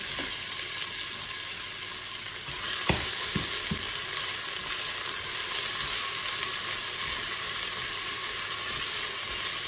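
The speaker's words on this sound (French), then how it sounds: "Ensuite, je vais venir mettre mes oignons." Onions frying in olive oil inside a Cookeo multicooker for a Tunisian tajine, a dense close sizzle with a few sharp spoon knocks and stirring scrapes, with no talk.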